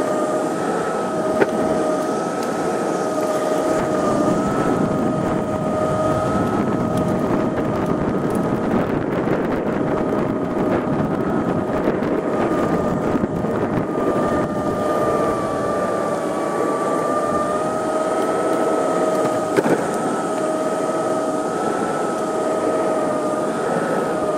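A Metro-board electric shortboard skateboard rolling on smooth pavement at about 16 miles an hour, a continuous loud wheel roar with a steady motor whine and wind buffeting the microphone throughout.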